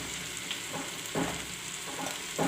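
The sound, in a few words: rice and moong dal added to hot pot for khichdi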